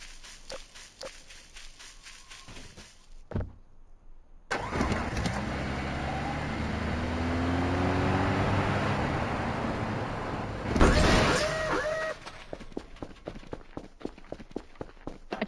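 A car engine starts and drives in the horror game Voices of the Void: a loud, steady rumble that holds for several seconds, swells near the end, then cuts off, with lighter clicks and thumps before and after.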